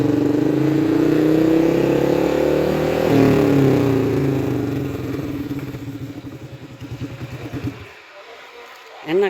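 A motorcycle fitted with a CLD aftermarket exhaust revs up and holds a rough, loud engine note that slowly fades and settles back toward idle, with one short final blip at the end.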